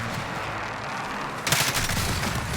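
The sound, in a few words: gunfire in the video game Call of Duty Warzone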